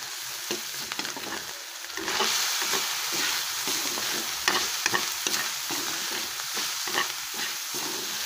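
Ground pork frying in a pan gives a loud, continuous sizzle that swells after a quiet start, broken by repeated scraping and stirring strokes, close up with no talk.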